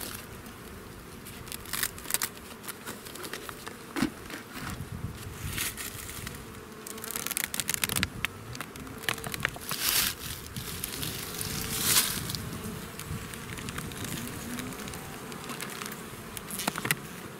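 Honeybees buzz around open beehives in warm weather, a dense, continuous drone with frequent close passes and faint crackles as the hives are worked.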